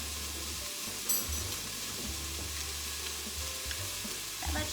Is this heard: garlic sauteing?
yes